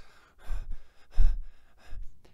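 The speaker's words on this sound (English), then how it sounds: "you basically hear some heavy breathing at first" Heavy breathing over a live radio feed, three or four loud, close, ragged breaths and gasps in a slow rhythm with short pauses between.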